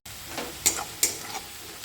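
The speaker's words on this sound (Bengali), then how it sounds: "এরপর এখানে দিয়ে দিচ্ছি এবার কুচনো রসুনটা, আদাটা, পেঁয়াজ" Chopped garlic, ginger and onion frying in ghee give a soft, steady sizzle, broken by two sharper clinks of a spoon stirring the pan, quiet and close with no voices.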